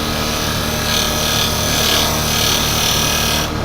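A piece of firewood spins on a woodturning lathe while a tool cuts into it, giving a loud, continuous rushing hiss with a steady motor hum underneath, ending abruptly near the close.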